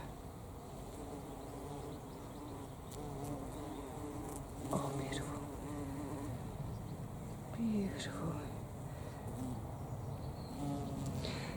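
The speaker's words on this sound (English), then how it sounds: "I don't want to disturb the bees by keeping on brushing past this lavender" A steady drone of many bees buzzing on lavender nearby, individual insects swooping past, with a person speaking briefly and softly over it.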